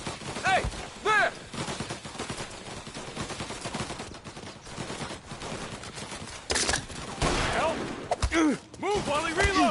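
Gunfire in the video game Mafia Definitive Edition, repeated sharp shots in irregular bursts and rapid volleys, some overlapping, with echoing reports and brief pauses between exchanges.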